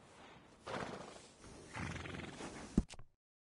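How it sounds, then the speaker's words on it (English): A horse in a stable in Red Dead Redemption 2 neighs with a rising whinny over ambient noise, followed by a sharp snort or hoof knock near the end. "This horse is one of the finest you can get."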